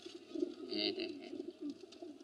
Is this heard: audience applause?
no